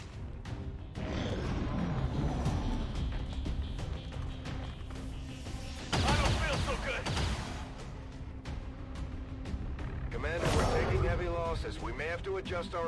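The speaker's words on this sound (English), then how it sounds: "Taking heavy fire." Heavy gunfire and artillery on an XCOM 2 battlefield, booming blasts and crackling shots with sharp bursts near six and eleven seconds, dense and loud, with voices speaking over the action.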